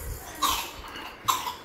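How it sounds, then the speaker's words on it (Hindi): Two short coughs from a child, close by, spaced about a second apart with quiet background noise between them. "खांसी काफी होगी इसको"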